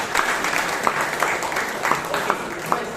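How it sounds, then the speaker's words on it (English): Applause from the audience at a Bangalore Toastmasters club meeting for Toastmaster Ganesh Pai, a modest, moderately faint patter of clapping with a few sharper individual claps standing out over three seconds. "He definitely deserves a thunderous round of applause."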